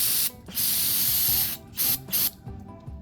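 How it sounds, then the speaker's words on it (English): Gum Out carburetor cleaner hisses from an aerosol can onto a Honda generator in four close, loud bursts of varying length, separated by short silences. "We're gonna be primarily using this carb cleaner called Gum Out"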